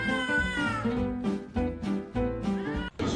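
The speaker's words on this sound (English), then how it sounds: "I think that girl did something to upset the cat" An upset cat meows loudly and repeatedly in a run of drawn-out, wavering yowls with short breaks between them, close to the listener and heard alone.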